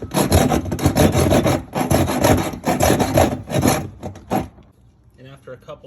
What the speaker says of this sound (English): that's when you just get your saw